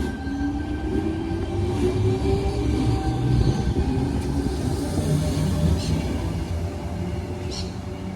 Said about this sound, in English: The next train to arrive on platform 4 goes to Penrith.